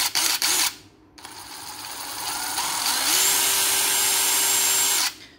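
A Dewalt DCF809D2 20V max cordless impact driver with 190 N torque and 2,800 rpm, briefly triggered with a short burst, then run for several seconds with a steady high whine that rises in pitch before stopping, loud and close.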